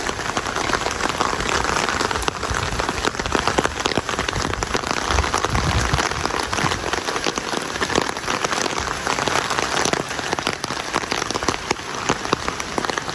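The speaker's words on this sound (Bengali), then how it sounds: "অনেক বৃষ্টি হচ্ছে আজকে" Heavy evening rain pours down steadily in Hallstatt, Austria, a dense, continuous roar of drops hitting surfaces with no pauses.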